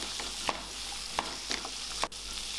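Spiced vegetable filling for spring rolls, seasoned with garam masala, sautéing in a pan: a soft steady sizzle with a few stirring scrapes at irregular intervals, fairly quiet and close, with no talk.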